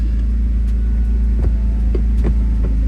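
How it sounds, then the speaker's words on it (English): A pickup truck engine, just jump-started from a dead battery, runs at a loud steady low rumble with a deep throbbing hum and a few faint clicks. "hooked the truck up to the battery, got it to fire up"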